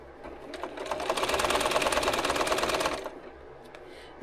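A home sewing machine with a worn bobbin case stitches in a fast rattling run for about three seconds, then stops.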